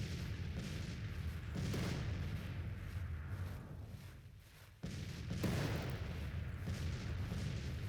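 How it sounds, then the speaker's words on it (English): Artillery fires grape shot on a Grand Tactician battlefield: a dense, continuous rumble of booming cannon volleys, heavy and sustained, with a brief lull before another surge. "out comes the grape shot"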